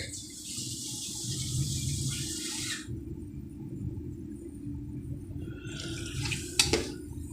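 Water poured into a cooking pot while making homemade pancit, a hissing splash for a few seconds, then quieter trickling, with a brief clink near the end.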